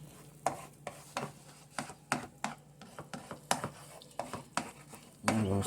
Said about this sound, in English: I'm going to scramble it up.